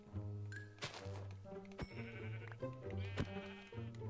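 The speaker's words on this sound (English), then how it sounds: "We're also gonna get some food from my sheep." Sheep in the Minecraft video game bleat repeatedly, the game sounds layered with tonal in-game effects and thunks, moderately loud and continuous with no talk.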